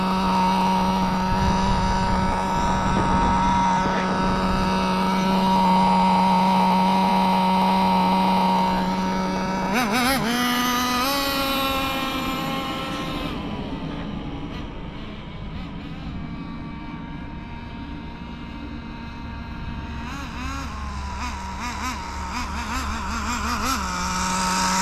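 XtM X-Cellerator nitro RC truck with an RS4 motor runs for a long stretch, a loud, buzzy, high-pitched whine holding steady, then revving up and falling away, with the pitch shifting as it moves nearby.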